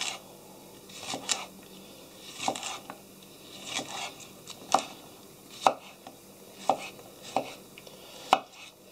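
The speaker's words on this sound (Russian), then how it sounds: "Немножко при резе огурец колется" A Cold Steel Pocket Bushman folding knife slices through a long, prickly cucumber in a series of about ten crisp, close cuts that land one by one at irregular intervals.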